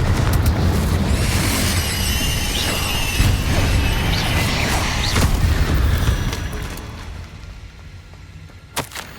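Fire-blast spell explosions in the Hogwarts Legacy video game on Xbox Series S, a dense run of loud booming blasts and crackling impacts for about six seconds, then fading to a sharp final crack.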